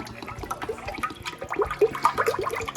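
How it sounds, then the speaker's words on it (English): Cooking oil pours into a small deep fryer with a close, steady gurgling splash and scattered liquid plops, fairly quiet and without voices. "So I'm pouring my oil inside of here."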